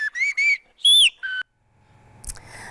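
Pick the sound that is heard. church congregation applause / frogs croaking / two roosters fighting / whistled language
whistled language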